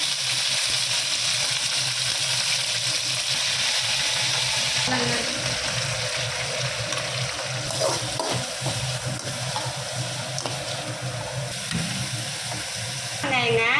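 Mustard seeds, urad dal, cinnamon and curry leaves frying in hot oil for a Tamil chicken kuzhambu, a steady broadband sizzle with scattered pops and occasional stirring scrapes throughout, no talking.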